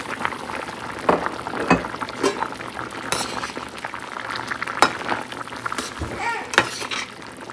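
Fried lentil dumplings go into a simmering tomato curry in a home kitchen, with soft bubbling and stirring, scattered clinks of a utensil against the pot, and a few sharper knocks.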